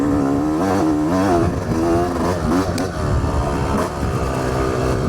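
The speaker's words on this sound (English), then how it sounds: "Man, I love riding a two-stroke in the woods" A two-stroke dirt bike ridden through the woods, its loud, close engine revving and bogging in uneven surges as the throttle opens and closes.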